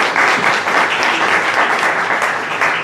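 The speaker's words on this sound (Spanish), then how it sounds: "Démosle un fuerte aplauso a nuestro profesor de este día" An audience in a hospital general session bursts into loud, dense applause for the day's lecturer, sustained evenly from start to finish with no speech over it.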